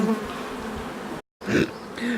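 Bees buzz loudly and close by inside a beekeeper's veil during a honey harvest, a steady droning hum with shifting pitch as they move around, briefly cut off by a moment of silence.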